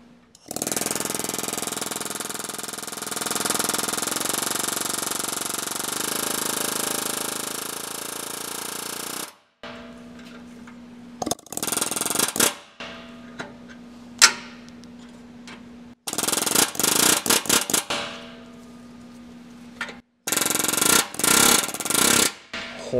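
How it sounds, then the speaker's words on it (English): Pneumatic air hammer working on a rusted diesel exhaust during NOx and particulate sensor removal on a 133,000-mile vehicle: a long continuous loud hammering burst, then several shorter sharp rattling bursts separated by pauses with a low idle hum. "Cover your ears because it's air hammer time."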